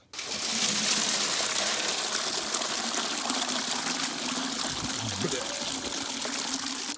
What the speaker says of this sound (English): I think I'm going to dump it into a five gallon bucket, a plastic five gallon bucket